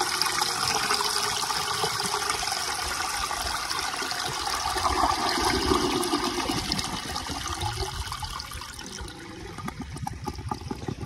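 A 1920 Standard Ejecto toilet flushing, a steady close rush of water swirling and draining for the whole stretch, easing slightly toward the end with some gurgling.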